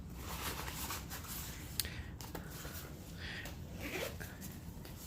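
A zipper being pulled open and closed on the pocket of a vintage Dior Diorissimo Boston bag, with soft rustling and handling noises, close and fairly quiet.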